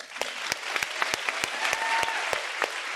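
Steady audience applause from a crowd at a panel discussion on art, equity and economic empowerment, with dense clapping and sharp individual claps popping out on top, continuous and fairly close for the whole stretch.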